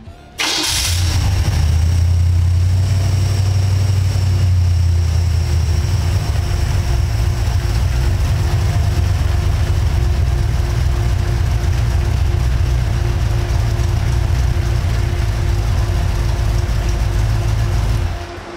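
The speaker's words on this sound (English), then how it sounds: "the next initial startup of the engine was way more smooth and came down to a clean, stable idle" A car engine cranks and starts, then settles into a steady, smooth idle with a low, even rumble that continues for most of the clip before cutting off; the engine has just had a vacuum leak repaired.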